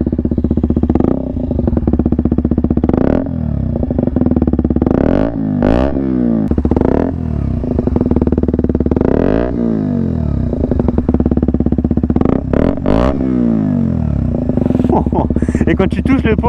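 A motorcycle engine and exhaust run loud and close, idling with a steady rumble broken by repeated throttle blips and revs throughout, with a voice heard faintly now and then.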